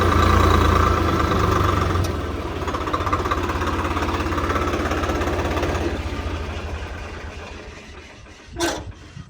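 A Swaraj 855 FE tractor engine runs close by with a steady low diesel rumble and chugging, fading slightly through the middle, with a brief louder burst near the end.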